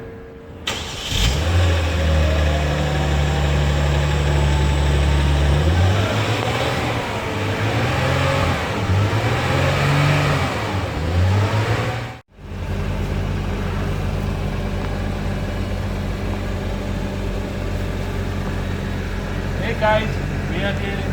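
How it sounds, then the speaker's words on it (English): A Genesis G70 sports sedan engine cranks and catches, then revs up and down several times in rising and falling swells, briefly cutting out before settling into a loud, steady idle. "Let's fire up this Genesis G70 and see what's the sounds like"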